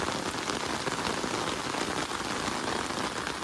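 Steady monsoon downpour in rural Maharashtra pours down, a dense, even hiss of drops hitting surfaces with no other sounds.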